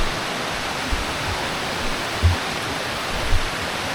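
Sai Yok Noi waterfall in Kanchanaburi, seen in the rainy season, pours in a steady, dense rush that fills the scene, with a few faint low bumps and no voices.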